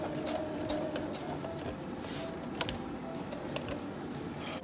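A sewing machine runs steadily while stitching a hem on stretchy fabric, a continuous close mechanical whir with faint ticking clicks throughout, no talk.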